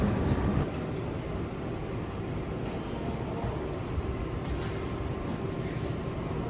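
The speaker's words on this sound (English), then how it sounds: "This is a Woodside 61st Street bound 7 local train." A New York City 7 local subway train with R188 cars rumbles steadily from inside, a continuous broadband roar with a faint metallic squeal midway.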